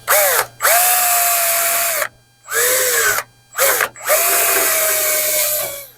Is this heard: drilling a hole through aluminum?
yes